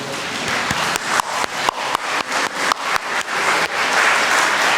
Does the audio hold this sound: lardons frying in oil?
no